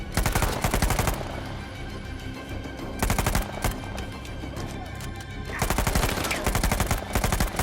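Rapid automatic gunfire in the video game Uncharted 4, loud bursts in three clusters separated by quieter stretches of background noise.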